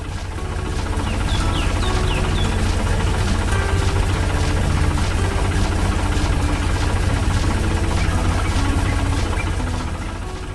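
A red Massey Ferguson tractor moving across a green field rumbles with a steady, loud low engine drone and slight knocking vibration, continuous throughout with no voices.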